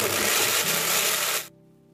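Electric blender grinding shallots with a little water, a loud dense whirring roar that runs steadily and then cuts off abruptly, leaving a faint hum.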